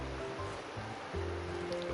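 Minecraft water flowing three layers deep makes a soft, steady wash like gentle surf or a stream, faint and continuous with no talking.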